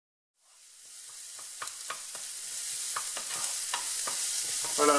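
Onion or shallot pieces hit hot oil in a pan and start sizzling abruptly after a moment of silence, the crackle building steadily with occasional stirring scrapes and taps.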